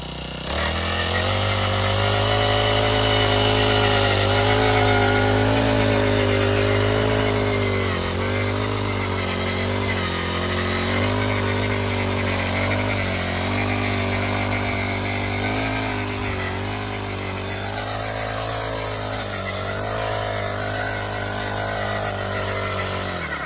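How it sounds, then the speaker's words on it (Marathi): A Shivai engine-powered weeder (kolpani machine) fitted with a 12-inch blade runs steadily for the whole stretch at a maize field demonstration, its loud, close, buzzing small-engine drone holding a constant pitch with slight wavering. "आता एकदा मशीन स्विच चालू केलं इथं."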